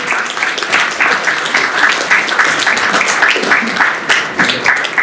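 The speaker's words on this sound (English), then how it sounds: "So please give them a round of applause." Applause from an audience at a company meeting, a dense, sustained wash of many hands clapping at a steady loud level with no clear break.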